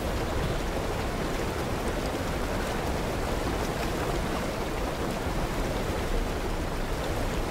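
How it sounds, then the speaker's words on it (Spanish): A river rushing into a wild waterfall in Fortnite gives a steady, even roar of water that holds without a break, with no voices over it. "Oímos con calma el ruido de este maravilloso río que se transforma en una salvaje e indomable cascada"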